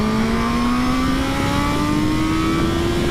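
Honda CBR650F inline four motorcycle engine revving hard, a loud, close, steadily rising whine climbing in pitch for a few seconds under wind rush.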